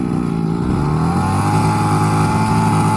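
A remote-controlled toy car engine idles in a continuous, fairly loud buzzing drone with a steady pitch, heard close up.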